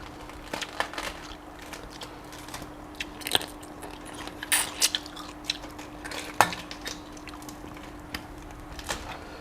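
Close, crisp chewing and biting of spicy Thai blue crab salad with salmon and rice noodles, with scattered crunches and faint clinks of utensils, steady and unhurried with no talking.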